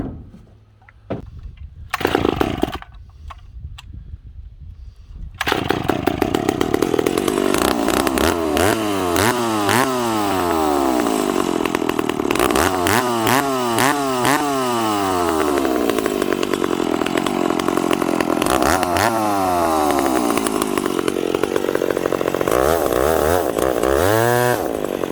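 Ported McCulloch Super Pro 70 chainsaw, heard starting after a few quiet seconds and then running loud and close, repeatedly revving up and dropping back to idle, with no talking.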